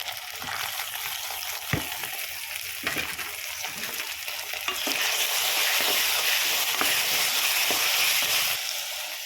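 Ginger garlic paste and tomato fry in a pan of pilaf base, giving a steady close sizzle with spoon scrapes and stirring clatter, the frying growing louder and denser partway through, with no talking.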